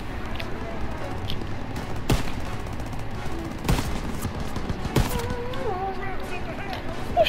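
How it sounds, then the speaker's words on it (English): Gunfire in the video game Call of Duty: WWII, with sharp shots cracking out at irregular intervals over a constant battlefield rumble of distant firing and background game noise. "Who the heck is shooting me?"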